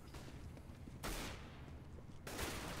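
Distant, muffled gunfire in the game CS:GO, two broad bursts rising over a steady noisy background.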